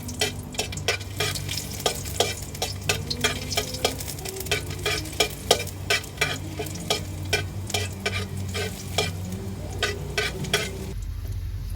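Onion and garlic sauté in oil in a pan, with a steady sizzle under repeated crisp spatula scrapes and stirs over about eleven seconds, loud and close, with no talk.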